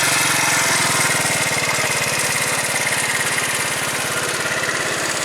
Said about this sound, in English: Kind of rattling coming from the muffler. I think it's that heat shield.